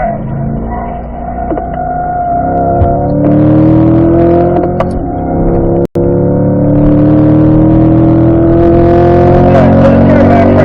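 A Chevrolet C8 Corvette accelerates hard on a track, its engine pitch sweeping upward through successive gears, loud and close from inside the car, with a brief cut at the shift.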